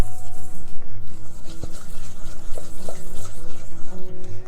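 Heavy cream and powdered sugar whisked into icing in a bowl, a steady close rhythmic swishing and tapping of the whisk repeating several times a second, loud and continuous with no voices.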